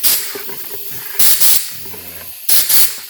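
A spray gun sprays Raptor bedliner onto a truck in loud, close bursts of hissing air, three short blasts separated by quieter pauses.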